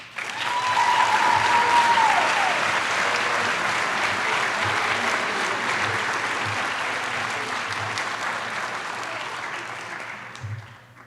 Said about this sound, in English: Please give a round of applause for Benjamin Stangler.